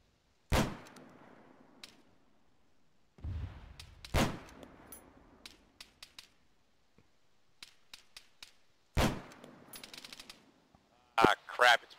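Video game gunfire rings out in sharp separate bursts, single cracks and short rapid volleys spaced by near-silent gaps, with a loud cluster of shots near the end.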